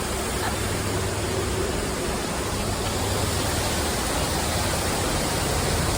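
A waterfall near Siliguri, a constant broadband rush of falling water, steady and loud, filling the scene with no breaks or voices.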